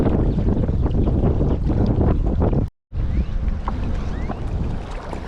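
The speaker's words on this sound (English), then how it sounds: "It is really windy." Strong wind buffets the microphone beside a bass fishing bank in a loud, continuous low roar, broken briefly by a moment of silence before the gusting resumes.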